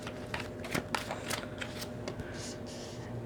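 Tarot cards are shuffled by hand in a run of crisp riffling flutters and soft slaps, close and quiet, with a few sharper snaps of the deck amid the papery rustle.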